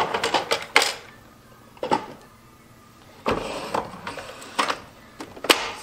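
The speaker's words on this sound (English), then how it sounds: "Take off the front accessory tray." The front accessory tray comes off a Brother NS2750D sewing and embroidery machine with a run of close plastic clicks, snaps and scraping rattles. The sounds come in irregular bursts over a low background.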